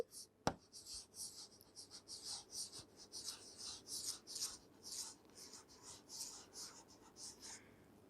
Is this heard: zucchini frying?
no